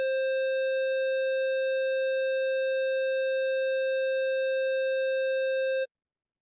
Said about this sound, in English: 432 hertz frequency